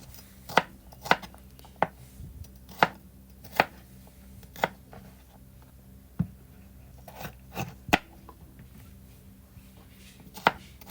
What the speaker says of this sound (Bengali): কেটে নিচ্ছি দুইটি টমেটো